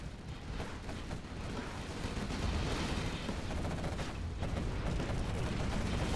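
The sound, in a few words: Dominator tank firing on quad cannons, Command & Conquer Generals Zero Hour video game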